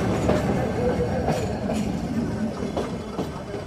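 A diesel-hauled toy train on the Ooty mountain railway in India rolls past nearby with a continuous rumble and rhythmic clickety-clack of wheels over rail joints.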